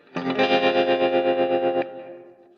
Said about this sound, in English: This is a really nice plugin that will give me this kind of tremolo. And then I'm going to use the Roomworks SC reverb to add a little bit of space to my guitar sound.